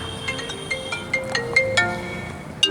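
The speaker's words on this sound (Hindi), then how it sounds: "फोन आया आपका?" A phone rings with an incoming call, a bright, repeating ringtone melody of quick chiming notes playing close and loud over a busy background hum.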